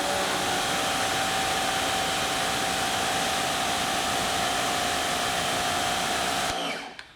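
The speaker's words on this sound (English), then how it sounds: "the pump sounds good. The pressure washer is nice and quiet" A Wholesun 3000 psi electric pressure washer runs with a 0 degree nozzle, giving a steady, loud spraying hiss with a constant whine that holds evenly, then cuts off sharply near the end.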